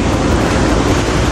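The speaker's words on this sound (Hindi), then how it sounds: "ये था वो वाला वाटरफॉल और उसके बाजू में ये है दूसरा वाटरफॉल" Water rushes steadily from a hidden waterfall in the wild, a loud, close, unbroken roar with some wind buffeting on the microphone and no speech.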